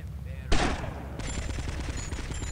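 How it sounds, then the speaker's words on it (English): Rapid game gunfire from GTA: Vice City: a loud burst rings out, followed by a steady rattle of automatic shots beneath continuous game background noise. "We're gonna just shoot them down."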